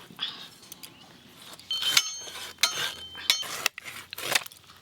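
A knife cuts a large 3.5 kg Shankar fish into pieces, producing sharp chopping knocks and metallic clinks at an uneven pace, close by, with occasional quiet talk.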